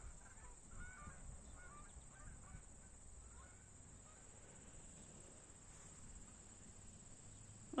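A flock of geese in a Canadian meadow in early autumn gives a steady, moderately distant chorus of honking calls, repeated throughout under a low outdoor background hum, with no talking.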